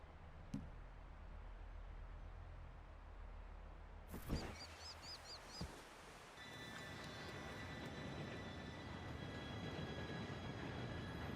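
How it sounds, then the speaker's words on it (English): An approaching train in the Red Dead Redemption 2 game, a steady low rumble that swells into a louder rolling roar with faint whistle-like tones, plus a few clicks and sharp knocks along the way. "Train should be here any minute now."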